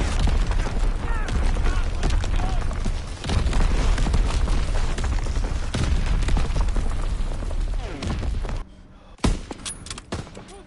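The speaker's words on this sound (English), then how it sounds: "Incoming enemy artillery. Get to cover." Incoming artillery in Call of Duty WWII Nazi Zombies: a dense, loud barrage of explosions and gunfire with heavy low booms for most of the stretch, then a brief lull before a few sharp blasts, mixed with game voice lines.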